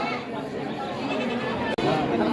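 Crowd chatter at a traditional goat market in Ghior, with goats and sheep bleating in the busy din; voices run steadily throughout, and there is a brief dropout near the end.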